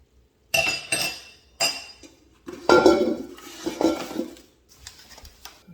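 Metal stand mixer attachments (dough hook, beater and whisk) handled in a large mixer bowl, giving several sharp, close metallic clanks and clinks in separate bursts with quiet gaps between.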